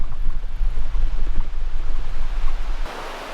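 The Metolius River flows right beside a campsite in its narrow canyon, a loud, steady rush of turbulent rapids and riffles filling the scene, the broadband roar continuing throughout and turning slightly brighter near the end.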